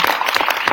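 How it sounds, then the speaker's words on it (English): Audience at a digital content marketing panel clapping for a speaker, a brief, loud burst of dense handclaps. "let's give a round of applause for Carlo."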